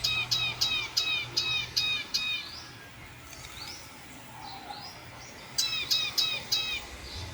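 A rufous-tailed tyrant, a small insect-eating bird, gives repeated bright chirping calls in quick series, pausing briefly mid-clip before a final run of sharp notes, fairly close over quiet outdoor background.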